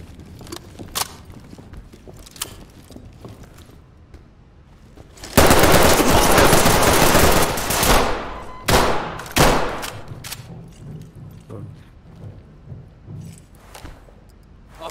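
Gunfire in the tactical shooter game Ready or Not: a few scattered shots, then a loud sustained burst of rapid fire lasting a couple of seconds, followed by shorter sharp volleys that fade into quieter background noise.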